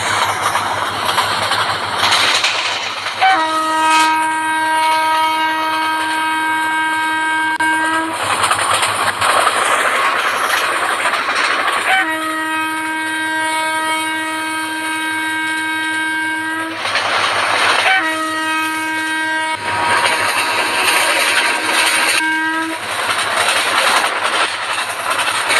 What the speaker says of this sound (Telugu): ఇదిగోండి ఇక్కడ ట్రైన్ ఉంది